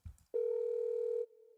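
A synthetic telephone ring or dial-tone sample used as percussion in a minimal house track: a short low thump, then a loud steady electronic tone holding for about a second before dropping to a quieter sustained tail.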